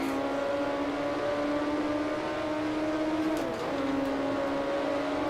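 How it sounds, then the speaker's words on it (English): Racing car engines in Grand Prix Legends driving a Matra F2 at Zolder: a sustained high engine whine with a second engine tone audible close behind, shifting pitch briefly mid-way. "Can hear that engine right behind me"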